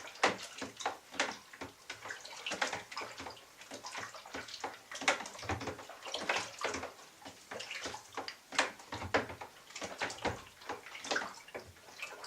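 Mead sloshes and swirls as it is stirred around in a fermenter over a thick layer of lees, with rhythmic splashing strokes that sound close and fairly soft.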